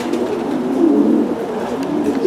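A racing pigeon coos close by, a soft low throaty rolling call sustained for a couple of seconds with no talk over it.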